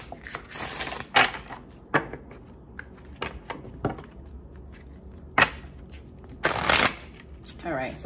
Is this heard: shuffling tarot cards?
yes